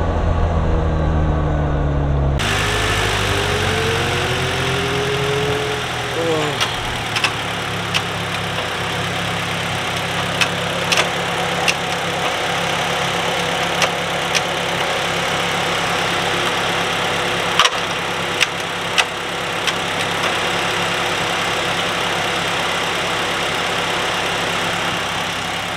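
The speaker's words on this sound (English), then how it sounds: "I think we have a transmission sound." A car engine idles steadily with a faint whine that may come from the transmission; a low, even drone holds for the whole stretch with scattered small ticks and knocks and no talk.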